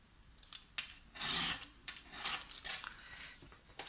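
Blade trimming the excess edge off a Polaroid print against a ruler, a series of short close dry cutting and scraping strokes, irregular and fairly faint.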